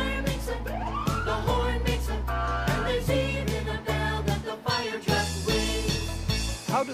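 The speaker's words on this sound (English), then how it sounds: "I hear a fire truck coming down the street." A fire truck siren sweeps up and down inside a children's fire truck song, its wail rising over bouncy music with jingling accents.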